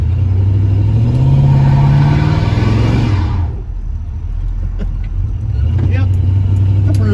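A 1977 Chevy C20 truck engine revs loudly and close, rising in a sustained roar for several seconds, then dropping to a rough idle before picking up again.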